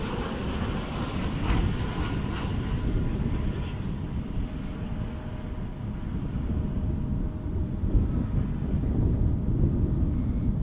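A Turkish Airlines airliner approaches DFW International Airport in Texas, a steady broadband engine roar, fairly distant and continuous, with some wind buffeting throughout.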